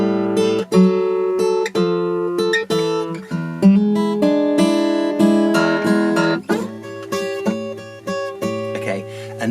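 An acoustic guitar plays a blues turnaround in A, plucked notes and ringing chords moving through a short descending phrase, close and clear.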